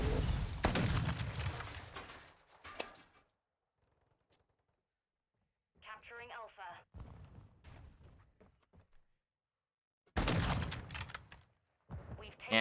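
Sniper rifle fire in a shooter video game: loud clustered bursts of shots open and close the stretch, with quieter in-game sounds and a brief voice in the gap between.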